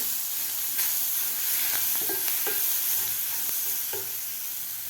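Ground masala paste for a ridge gourd dry vegetable dish hisses and sizzles loudly in a pan nearby, with intermittent spatula scrapes and small pops over a continuous steamy frying noise.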